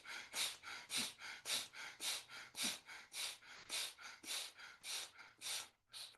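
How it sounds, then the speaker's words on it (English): During a sunrise yoga flow, alternate nostril breathing plays out as a long series of soft, even breaths through the nose, steady inhales and exhales repeating in a calm rhythm, close and quiet with no talk. "just breathing in right and out left."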